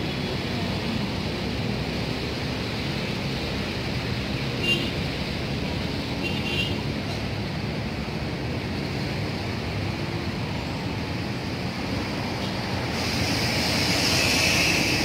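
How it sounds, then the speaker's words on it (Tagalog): Strong wind roars steadily at Manila Bay on a hot day, a constant broadband rush with faint surf-like swells, loud and close to the microphone. "malakas ang hangin dito, malakas ang hangin"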